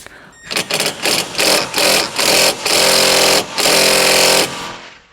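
A power tool working rusty bolts loose from a panel while a Toyota or Lexus starter is being replaced, loud close bursts of rattling impact whir, several in a row with brief pauses between them, no talking.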